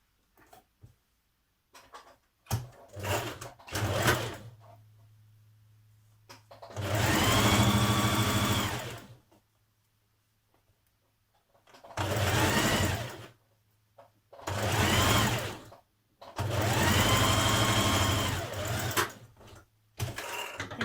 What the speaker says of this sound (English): along this bottom edge you're going to stitch it together